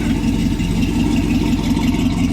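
A 1966 Chevy truck's engine runs steady and loud close by, a deep rumbling idle that holds an even level throughout with no clear rise in pitch, no one talking.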